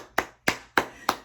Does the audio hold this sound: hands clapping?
yes